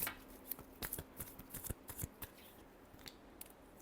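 A tarot deck is shuffled in a quick run of crisp, irregular riffling snaps and slaps, close and fairly quiet, with no talking.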